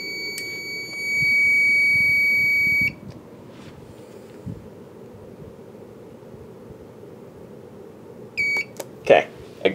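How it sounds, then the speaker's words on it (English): A Firelite MS5UD fire alarm panel under test with a Siemens notification appliance gives a steady electronic tone for a couple of seconds, then goes quiet. Short beeps from the panel follow near the end, with room noise and some talk. "this was a test of my new Firelight MS5 UD with my new Siemens UHN S17"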